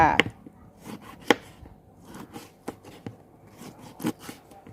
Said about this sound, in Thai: หั่นเป็นชิ้นเล็กๆนะคะ